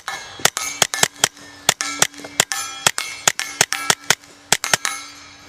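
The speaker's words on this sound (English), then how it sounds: "We're going to start with the standard velocity to show you what it sounds like with a suppressor on it." A suppressed rimfire gun fires CCI standard velocity ammunition, giving about twenty sharp, loud, ringing cracks in a fast uneven string, close up and with no talking.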